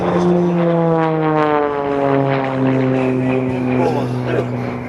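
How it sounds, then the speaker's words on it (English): An aerobatic propeller airplane rolls overhead at the California Capitol Airshow, its engine a loud, steady droning buzz that slowly shifts in pitch throughout, with an announcer's voice faintly audible beneath the roar. "he's turning that airplane, rolling that airplane with the ailerons until now"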